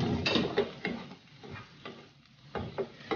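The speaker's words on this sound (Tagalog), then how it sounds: "magigisa na tayo, ilalagay na natin yung ating bawang" Garlic sautéing in a pan for salmon-head sinigang, a soft sizzle broken by scattered clinks and scrapes of a utensil stirring in uneven bursts, with no talking.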